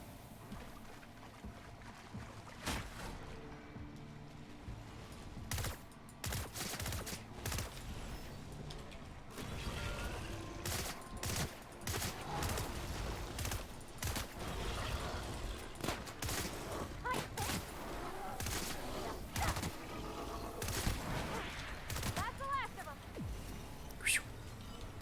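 Heavy weapon fire in The Outer Worlds, a dense run of loud sharp blasts and bursts over about twenty-five seconds, irregular and close, with brief lulls between volleys.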